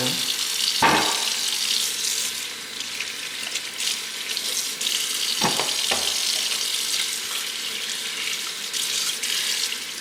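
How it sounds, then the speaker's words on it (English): Steady cold tap water pours and splashes over turkey wings in a sink, continuous and close, with a couple of sharp clunks partway through. "Then I'm going to run cold water over them. To rinse."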